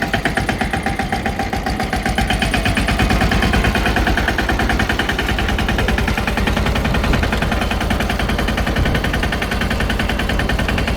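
A tractor engine runs with a rotavator attachment in a field, giving a loud, continuous, rapid mechanical knocking and chugging that stays steady and close throughout, with no voices.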